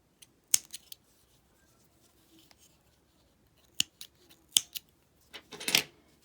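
Scissors snipping off the yarn ends of a crocheted peppermint: a few sharp, quiet snips spread across several seconds, with faint handling noise in between.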